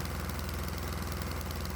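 A diesel engine runs on a 70% waste oil fuel mix, its steady, even idle chugging loud and close.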